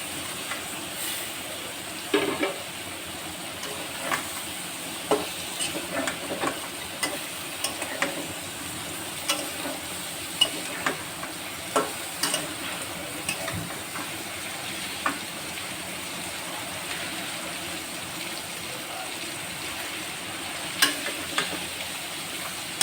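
Drumsticks, potatoes and prawns sizzle steadily in a hot pan while being stirred, with a constant frying hiss punctuated by frequent clicks and scrapes of the spoon against the pan, and no talking.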